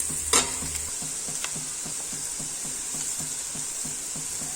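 Bitter gourd stir-fry in a pan with salt just added, stirred with a rhythmic run of scraping strokes over a steady faint hiss, one louder knock near the start, no voices.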